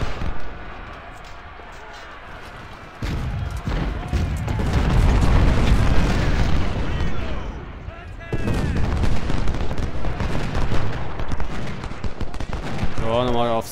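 Dense gunfire from the video game Ultimate General: Civil War, a steady rolling fusillade of musket and artillery booms that swells after a quiet opening and continues under someone talking.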